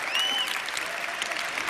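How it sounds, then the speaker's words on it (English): A live audience applauds at a webinar event, dense, steady clapping from a crowd for a couple of seconds, with a brief high whistle near the start. "Give her a big round of applause"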